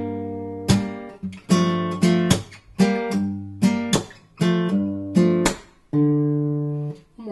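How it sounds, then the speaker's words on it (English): An acoustic guitar plays a passage from a song that slides down to G: clear, ringing plucked notes and chords in an uneven phrase, close and alone, with the last note held and fading. "In this case, we're sliding down to G, and that part sounds like this."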